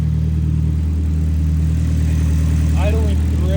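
A freshly built K24 engine fitted with a large 60 mm turbo idles steadily on its first start, a loud, even low rumble throughout, with excited voices talking over it.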